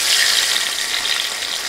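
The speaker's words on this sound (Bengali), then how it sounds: "এখন মাছের মাথাগুলো দিয়ে দিচ্ছি।" Fish heads frying in hot oil, a dense continuous sizzle with steady crackling, close and fairly loud with no talk over it.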